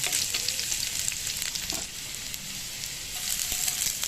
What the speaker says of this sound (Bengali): রসুন কুচানোটাকে একটু লাল করে ভেজে নেব